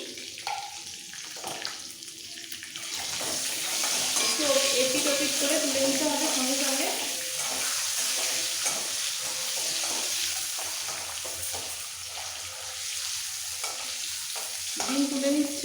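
Eggs frying in hot oil in a pan for egg dum biryani, a steady close sizzle with occasional stirring scrapes and brief faint voice murmurs.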